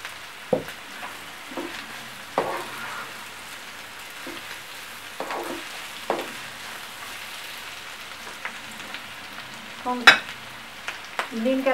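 Yellow capsicum going into a pan for vegetable noodles, a soft continuous sizzle broken by repeated sharp scrapes and clacks of a spatula stirring, with no talking.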